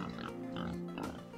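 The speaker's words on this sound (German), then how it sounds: "Okay, kleines Schweinchen, geh weg." A pig in the video game Chef RPG grunts and oinks in short nasal bursts, close and moderately loud over a steady background hum, with two or three grunts in quick succession.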